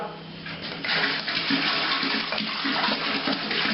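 Tap water pouring into a fermenting container of warm sugar water for a whiskey mash, a loud, close rushing splash that swells in force about a second in and continues steadily.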